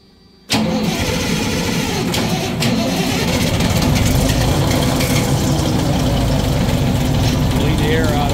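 A Cummins NT 855 diesel engine, run without its turbo hooked up, cranks and catches, then holds a loud, steady running roar close by for most of the stretch, with voices faintly under it.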